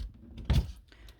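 A magnetic catch on a bespoke wooden cabinet door in a camper van build snaps shut with a single short clunk, close and fairly soft, inside a quiet interior.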